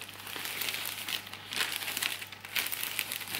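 Wrapping paper crinkles around a flower bouquet as it is folded and wrapped during a floristry lesson, giving soft, close crackling rustles in uneven bursts with short pauses between.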